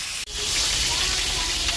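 Pieces of cauliflower sizzle in hot oil while being browned for a pomfret fish curry. The close, dense frying hiss dips for an instant near the start and then continues.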